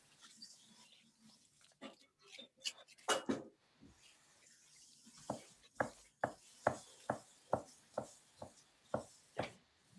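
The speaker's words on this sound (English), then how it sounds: "So I'm gonna cut this to mince it the same way I would do an onion." Kitchen knife mincing a shallot on a cutting board, scattered cuts at first, then a steady run of about a dozen evenly spaced, moderately loud chops near the end, with some soft speech-like sounds in between.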